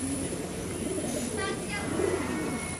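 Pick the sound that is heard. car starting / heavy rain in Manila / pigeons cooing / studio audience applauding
pigeons cooing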